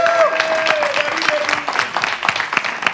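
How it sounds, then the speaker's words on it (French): Audience applause at a live French game-show round, steady dense clapping throughout with a presenter's voice audible over it. "On applaudit quand même"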